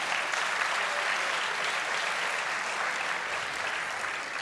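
A studio audience at the Turkish talent show Yetenek Sizsiniz Türkiye claps in a dense, even burst of applause that holds steady for several seconds, moderately distant and without talk.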